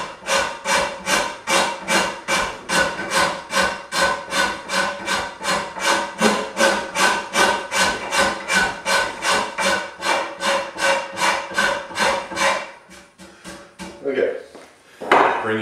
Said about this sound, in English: A flat rasp doesn't work good there, but the rounded rasp